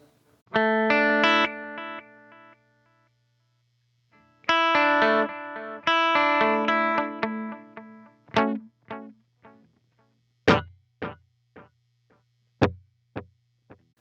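An electric guitar runs through a Strymon Timeline delay pedal set to low repeats: sustained chords ring out, then short plucked notes each trail off with a few quick, fading echoes in otherwise quiet surroundings.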